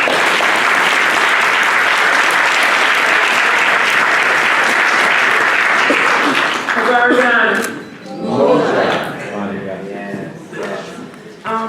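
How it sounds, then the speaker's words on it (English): Audience at a community Kwanzaa gathering in Paterson claps loudly and continuously for about seven seconds, then the applause thins out as voices start talking through the fading tail. "Y'all can clap."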